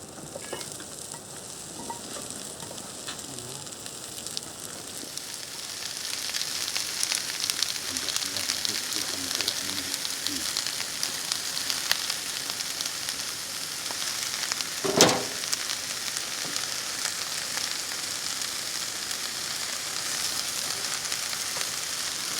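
Garlic and courgettes fry in a pan with a steady, close sizzle that grows louder after a few seconds, and one sharp clatter comes partway through.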